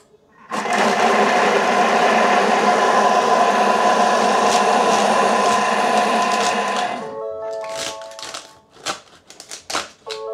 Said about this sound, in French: Je vais mixer cela.